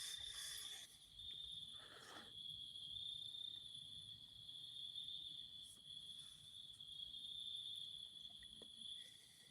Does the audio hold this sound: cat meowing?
no